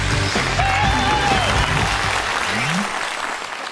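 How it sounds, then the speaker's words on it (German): Studio audience at a German TV comedy show applauds loudly, the clapping filling the room and holding steady before thinning out toward the end, with some laughter and cheering mixed in. "Applaus!"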